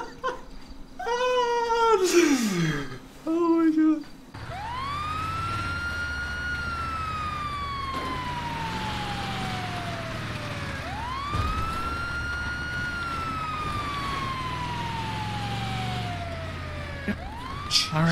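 Ambulance siren in a video game, a loud electronic wail that slowly falls in pitch and then rises again in long repeating sweeps, heard alone after a brief burst of game sounds.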